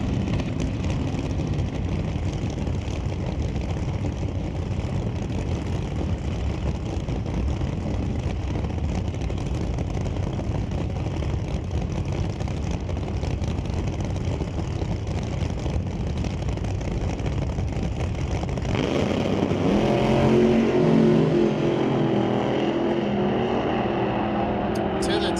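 A nitrous-fed 959-cubic-inch Pat Musi-powered hot rod in NHRA drag racing, heard as a constant loud engine roar with heavy crowd-and-track noise, swelling slightly near the end as a public-address voice talks throughout.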